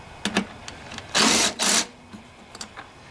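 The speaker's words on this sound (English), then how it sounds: "going to use my 5/16 socket on these to take this cover off here" A 5/16 socket tool loosens the cover shoulder bolts on a Briggs & Stratton 7.25 163cc lawnmower engine: two short, loud mechanical whirring bursts close by, among light clicks and taps.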